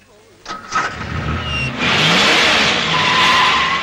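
A car engine cranks and catches, then revs and pulls away, rising into a loud steady roar with a tire-like hiss.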